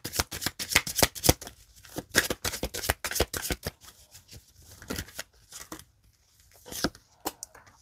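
Playing cards are shuffled repeatedly up close in quick riffling bursts, pausing briefly before a few more crisp shuffles, with no talking.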